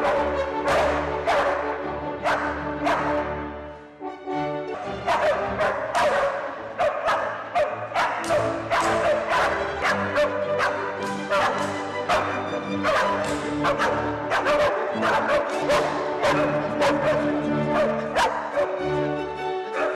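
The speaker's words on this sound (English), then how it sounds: "You may have heard Mozart perform, but probably not like this. By barking dogs." Dogs bark and yip in rhythm with a Mozart piece at a concert in Denmark, sharp repeated barks punctuating the steady orchestral music throughout, loud and close.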